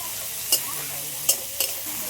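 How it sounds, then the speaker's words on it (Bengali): Peeled shrimp seasoned with turmeric powder and salt sizzle steadily in a hot pan for a village-style dish, with three sharp clinks of a spatula against the pan over the hiss. "এবার চিংড়ি মাছ দিয়ে দিচ্ছি।"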